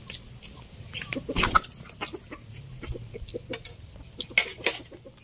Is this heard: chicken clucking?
yes